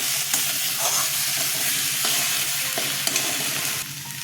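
Spices and onion sautéed in a hot pan, a loud continuous sizzle with occasional stirring scrapes running throughout, no voices.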